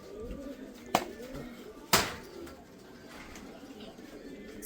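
Pigeons coo softly in the background, with two sharp clicks or knocks standing out and low murmuring throughout.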